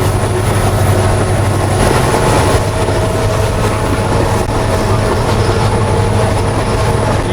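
The Tezgam passenger train runs toward Bahawalpur station with a loud, constant rumble of wheels and carriages, heard close from on board, with faint rhythmic clatter and no one speaking.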